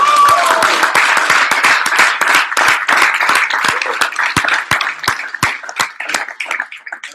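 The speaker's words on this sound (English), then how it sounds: "I think you should give yourselves a round of applause" Room full of conference attendees applauding at a breakout session, dense clapping that thins into scattered individual claps toward the end.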